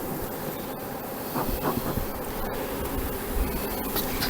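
Honeybees escaping from a bucket while a starter colony is being set up, a dense, continuous swarm buzz filling the whole stretch, loud and close, with no talking.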